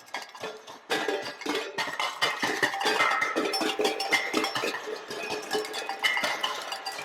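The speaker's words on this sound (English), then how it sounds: "Bang pans." Metal pots and pans clanking and banging close by, a rapid irregular clatter of metallic hits and rattles that keeps going.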